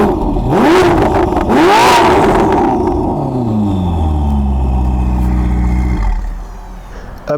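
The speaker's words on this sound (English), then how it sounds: "we're back at the decibel wars of our Novitec Exhaust-System on the SF90." A Ferrari SF90 fitted with a Novitec exhaust system revs hard and close, several loud rising blips and sweeping engine tones followed by a sustained rev that drops away sharply near the end.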